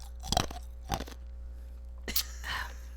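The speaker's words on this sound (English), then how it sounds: "Like you're chewing on ice." Crunchy ice chewed close up, heard as a few sharp, crisp crunching bursts separated by short pauses.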